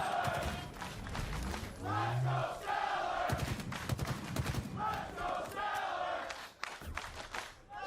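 An esports arena crowd cheers and roars for Stellar during a competitive match, a loud sustained din swelling and surging under a fast-talking commentator and in-game sounds.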